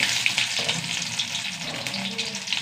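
Mustard seeds, fenugreek and shallots fry in hot oil, giving a steady, close sizzle with faint crackles and no talking.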